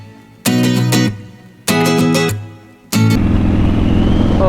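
Motorbikes pass close by in quick succession, each a loud harmonic engine roar that swells and fades, the last one holding steady under rushing wind noise.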